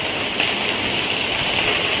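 Steady hiss of heavy rain pouring down with a broad rushing wash of strong wind in Chiplun, continuous and fairly loud throughout, heard from a house with a gallery.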